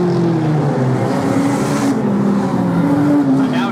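Banger racing car wedged into the back of another car with its tyre spinning against it, a loud continuous engine roar with wavering revving tones that rise and fall throughout.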